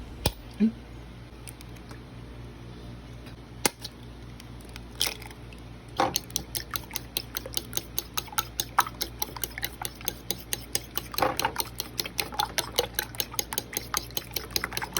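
Two eggs being beaten for hotcake batter: a steady, rapid clicking of a utensil against a bowl, sparse at first and then settling into a quick, even rhythm, close and moderately loud.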